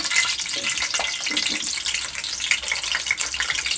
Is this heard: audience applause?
no